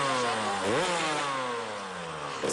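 A motorcycle performing a stunt at a circus gala, its engine revving hard nearby with sweeping rises and falls in pitch, a sharp surge near the start and another burst at the end, no talk.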